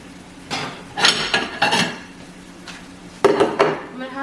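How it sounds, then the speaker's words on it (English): A knife cuts green leaf lettuce on a plate, giving a few sharp clacking chops of the blade against the plate in two short clusters, close and fairly loud. "So I'm just going to cut the lettuce up."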